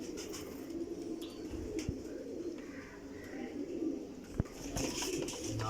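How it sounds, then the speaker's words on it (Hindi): Flying pigeons coo softly in a coop, producing a low, continuous burbling murmur at a modest level, with a couple of brief sharp knocks nearby. "टैडी कबूतर।"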